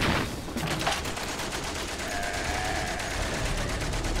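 In the video game Valiant Hearts, at the Battle of the Marne, a heavy burst of gunfire opens loudly, then rapid shots continue under a dense, noisy backdrop.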